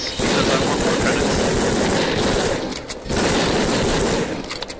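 Gunfire from shooting enemies in the Raw Data VR game comes as dense, rapid machine-gun bursts, loud and close, with a brief break midway before the firing resumes.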